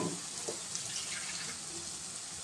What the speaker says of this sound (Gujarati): એના માટે આપણે નાખીશું થોડું પાણી.